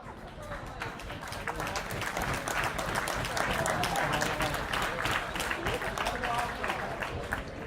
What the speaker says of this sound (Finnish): Annetaan vielä kerran raikuvat aplodit hienosti menestyneelle honkalaisjoukkueelle.